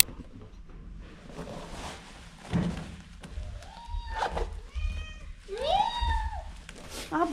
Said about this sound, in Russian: Такой кот, одна штука.